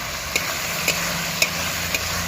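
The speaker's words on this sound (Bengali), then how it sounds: "আলুটা দিয়ে একটু নাড়াচাড়া করে নেব" Fried potatoes being stirred in a cooking pan, with a faint steady sizzle underneath and four light, evenly spaced scrapes of a spoon against the pan.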